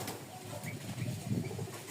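Rajshahi pigeons kept for sale cooing close by in a low, steady, throaty murmur. A few soft rolling coos swell and fade over a dull background, with no voices.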